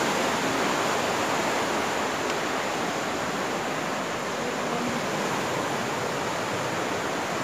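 Fast-flowing, swollen river water at the Alaknanda–Mandakini confluence in Rudraprayag makes a loud, steady, unbroken roar that fills the whole scene, with no voices.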